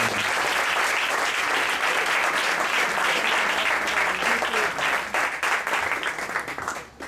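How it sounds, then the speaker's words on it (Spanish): Loud, sustained applause from a crowd, steady clapping throughout that thins slightly toward the end. "Un aplauso para Yair con el trabajo que está haciendo."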